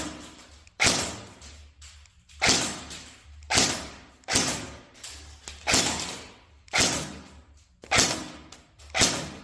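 KWA Ronin 47 electric airsoft gun fired on semi-automatic, about eight sharp single shots at a steady, roughly one-per-second pace, each a close thump with a short decaying tail.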